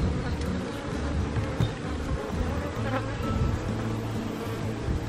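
Honey bees buzz steadily in an opened horizontal hive, a close, dense droning hum with fluctuating pitch that continues for the whole stretch without talk.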